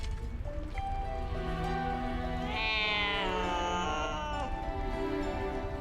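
A cat in the video game Baldur's Gate 3 gives a drawn-out, wavering meow midway, clear and close over a low steady ambient bed, with no voices.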